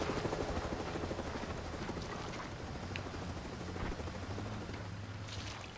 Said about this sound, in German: Kann das dein Ernst sein? Hubschrauber?